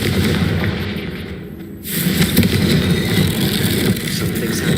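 An explosive Confringo spell cast in the Hogwarts Legacy video game bursts in a loud blast, then a dense, sustained rumble and crackle continues close and full for several seconds.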